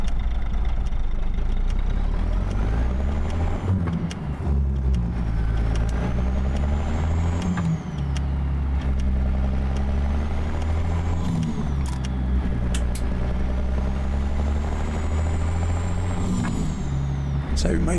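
A Ruda 378 truck engine runs steadily and loudly in American Truck Simulator, a deep droning rumble with shifting pitch as it accelerates, overlaid by brief air-brake hisses, continuing for the whole stretch under occasional talk.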